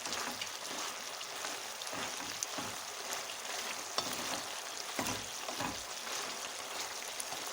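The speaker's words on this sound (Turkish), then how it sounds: "Biraz da kendi yağıyla beraber kavuruyorum." Chicken pieces sautéing in their own fat in a pan, a steady dense sizzle with occasional soft stirring scrapes, close and continuous, no voices.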